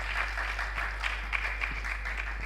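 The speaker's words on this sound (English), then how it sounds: "Round of applause." A conference audience at a climate change and green economy event gives brief applause, a soft, even patter of many hands over a constant low hum.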